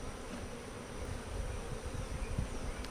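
Honeybees buzz steadily inside an opened beehive, a dense continuous drone that stays close and fairly even throughout, with no voices.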